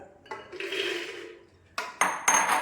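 Hard chickpeas clatter and rattle into a metal pressure cooker, a pouring rush followed by a few sharp metallic clinks and knocks, close and fairly loud.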